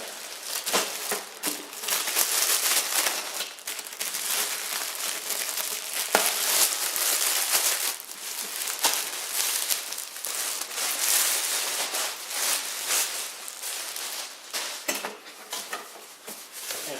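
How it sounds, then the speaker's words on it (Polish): Plastic protective foil is peeled and crinkled off a matt black 30-litre Brabantia Retro Bin, giving a continuous close crackling and rustling with sharper tearing bursts throughout, with no talking. "Sobie zdejmiemy tą folię."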